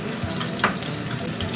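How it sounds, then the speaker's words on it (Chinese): Garlic and tomato sizzle and fry in a hot pan, a steady crackling hiss with a brief clatter of stirring partway through, close and moderately loud with no voices. "先放蒜头爆香以后再放入番茄"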